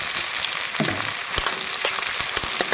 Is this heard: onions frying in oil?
yes